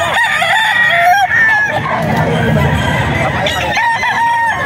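Several roosters crow loudly and repeatedly nearby at a breeder farm in Bocaue, overlapping each other, amid clucking hens and a busy farmyard din.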